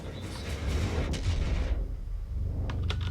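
A torpedo strikes a ship in World of Warships, giving a heavy, rumbling explosion that swells and then fades, followed by a few sharp distant cracks of gunfire.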